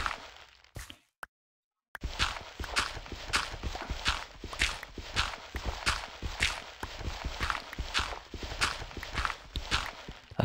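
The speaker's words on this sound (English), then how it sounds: "that's footsteps, it's Omri" Footsteps in the video game Minecraft, a quick steady run of crisp thudding steps that starts after a brief gap of near-silence and keeps a regular rhythm, fairly close and clear.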